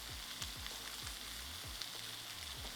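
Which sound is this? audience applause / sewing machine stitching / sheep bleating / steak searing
steak searing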